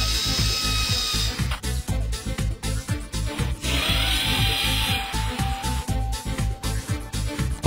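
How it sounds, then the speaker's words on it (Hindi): Power drill boring into cap holes on a drawer base panel during a Tandem Box inner drawer installation, with repeated short bursts of whirring and grinding against wood at close range, plus a few ratcheting clicks between passes. "कैप के होल्स पर ड्रिल कीजिए।"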